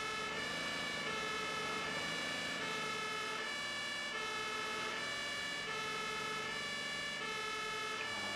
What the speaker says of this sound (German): das Martinshorn ist das Deutsche